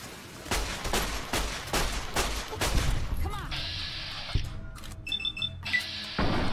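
Pistol shots in Fallout: New Vegas, a run of sharp, loud single reports early on, then game sound effects and chimes with a few scattered clicks.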